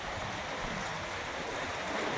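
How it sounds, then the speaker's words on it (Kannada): Steady, loud rush of the Kaveri River flowing fast, filling the whole clip, a broad continuous roar with no pauses and no voices. "ನೋಡಿ ಎಷ್ಟು ಜೋರಾಗಿ ಹರಿತಾ ಇದೆ ನದಿ ಅಂತ"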